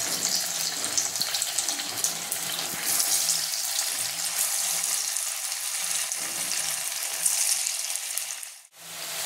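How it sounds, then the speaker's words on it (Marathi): Potato bhaji for a fasting-day recipe dropped into very hot oil in a kadhai, giving a dense, steady crackling sizzle that fills the clip before a brief clatter and a sudden cut near the end. "आता यात मी भजी सोडून घेते।"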